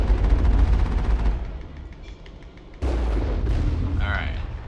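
Geth turrets firing in the video game Mass Effect: dense, loud bursts of weapon fire and booming impacts, dropping briefly and then resuming, with someone talking over the shooting.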